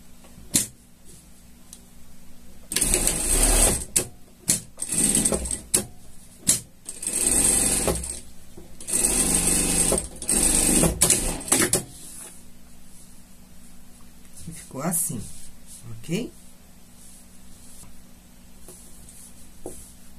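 A sewing machine stitches a seam on a shark costume in bursts of fast, rattling running, separated by pauses, then quieter handling and clicks toward the end. Close and fairly loud, with no talking.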